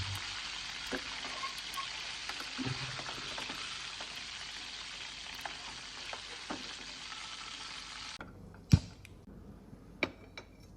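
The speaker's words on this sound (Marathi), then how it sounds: "अशा पद्धतीने आपले फिश फ्राय झालेले आहेत." Fish pieces fry in hot oil for a fish curry. A steady, close sizzle with crackle runs for about eight seconds, then cuts off, leaving a few sharp clicks and knocks with no talking.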